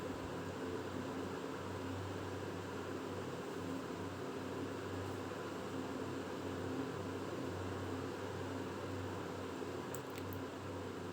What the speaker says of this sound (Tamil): வச்சுட்டு இப்போ மேலே ஒரு பீஸ் கொடுத்து தைக்க ஆரம்பிக்கலாம்